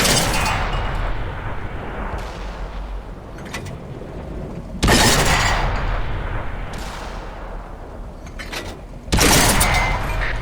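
A tank cannon fires and hits in the World of Tanks video game. Three loud, sharp blasts come at intervals of a few seconds, each followed by a long, decaying rumble.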